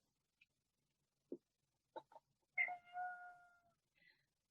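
A pet cat meowing indoors, a few short chirps and calls followed by one longer, drawn-out meow, faint and set against near silence.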